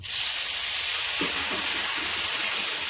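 Ground cumin, coriander and Kashmiri chili powder with a splash of water hiss steadily in a hot pan, a broad continuous sizzle with a brief burst as the water hits.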